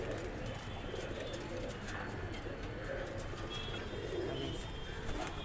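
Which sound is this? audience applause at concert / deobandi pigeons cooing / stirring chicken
deobandi pigeons cooing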